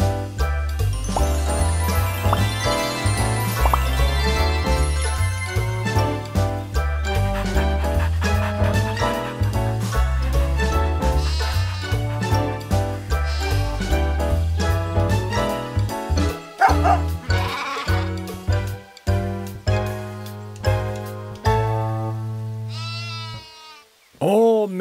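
Cartoon sheep bleat and a herding dog barks over bouncy background music on a farm, with jingling accents and a voice talking, the animal calls repeating throughout before ending with a rising cartoon effect.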